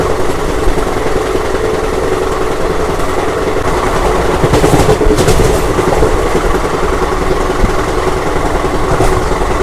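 The Jaynagar–Sealdah Gangasagar Express rumbles along heard from inside the carriage, a steady loud drone of engine and wheels with brief rattling surges midway and no voices.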